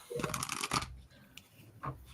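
A deck of playing cards being shuffled close by, with several quick rustling riffle bursts followed by softer card handling. No one speaks.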